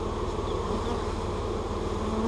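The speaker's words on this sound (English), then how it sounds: "I felt bees going across my finger" Honey bees buzz in a dense, continuous drone during a hive removal, close and steady with a low rumbling undertone.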